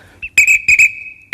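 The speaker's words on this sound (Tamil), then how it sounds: "ரிவர்ஸ் எடுக்கிறதுக்கு ஒரு விசில் அடிப்பீங்கல்ல?" A bus conductor's whistle signals the driver to reverse: several sharp, loud, close blasts in a quick uneven series, one faint chirp first and a final blast after a short gap, with no voices.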